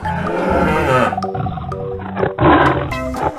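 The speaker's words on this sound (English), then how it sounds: "Tiger." Tiger roar, a loud close growling roar with a rough throaty rumble that breaks off and resumes in a second burst, no talking.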